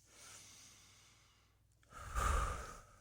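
One person draws a deep breath in and lets it out in a slow, close, audible exhale, after a quieter inhale and a brief pause.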